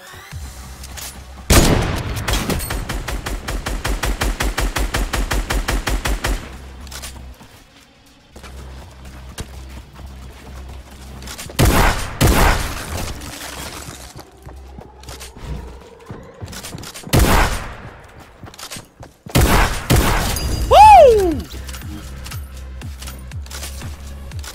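Shotgun blasts from a video game ring out as sharp, loud isolated bangs spread across the stretch, between rapid mechanical clicking and rattling, brief pauses and other game effects.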